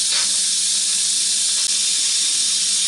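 An Instant Pot venting pressure after cooking corned beef, a loud steady hiss of escaping steam that holds constant throughout, close up with no talking.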